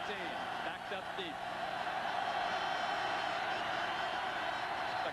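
Stadium crowd at the 1987 Ohio State at LSU college football game, a loud sustained roar that swells steadily, with a commentator talking over it.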